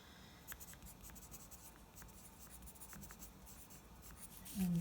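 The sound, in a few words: pencil drawing textures on paper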